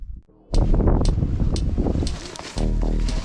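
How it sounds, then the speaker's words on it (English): Loud, steady wind buffeting the microphone on The Needles in Rocky Mountain National Park, a rumbling roar that rises and falls in gusts after a brief quieter moment, with no talking. "it's starting to get windy again"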